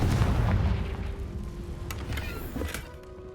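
Confringo spell explosion in Hogwarts Legacy gameplay: a heavy low boom that rolls and fades over a few seconds, followed by a couple of faint crackling pops.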